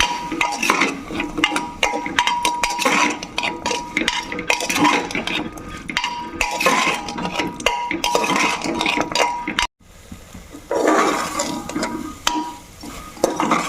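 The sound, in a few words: frying turmeric and Kashmiri chilli powder in a pan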